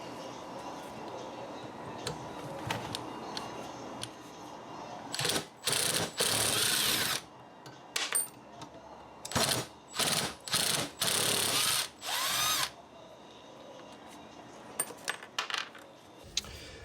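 Power tool with a Torx bit backing studs out of a Volvo C30 AC condenser, several short loud whirring bursts separated by quiet pauses and faint handling noise.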